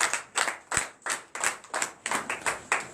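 Rhythmic clapping rings out at a night deliverance church service, crisp, evenly spaced claps at a brisk steady beat, close and clear with no talking over it.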